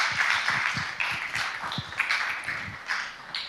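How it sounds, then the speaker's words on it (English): Audience at a tech presentation event clapping steadily, a dense, even round of applause from a moderately sized room. "So another round of applause for the team from Burley Law."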